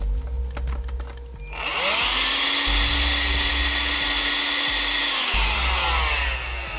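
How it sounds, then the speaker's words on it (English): A vacuum cleaner roars to life and runs steadily while cleaning out an old Stratocaster guitar body, a loud, close, continuous whoosh with a sustained motor whine. "I'm going to give it a quick hit with a vacuum cleaner"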